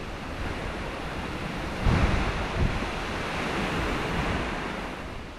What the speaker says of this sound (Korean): 이 바람 소리 들리시죠